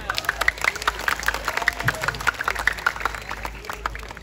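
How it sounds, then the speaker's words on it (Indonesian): At a live religious comedy gathering in Kalirejo, Indonesia, a crowd claps in an uneven, brisk patter that carries on over a few seconds, with a tonal sound running through it. "Tepuk tangan semuanya."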